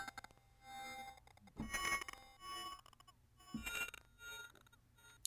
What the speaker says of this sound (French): là, c'est le son d'un verre de cristal